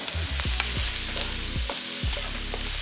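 Onions and garlic fry in a hot pan for fried rice, giving a steady close sizzle that runs the whole time, with a few light clinks and scrapes of stirring on top.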